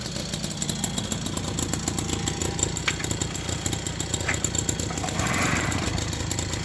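A small moped engine, the 101, running steadily after a hand start, with a continuous low mechanical chug and rattle close by and a few brief higher clicks; no talking.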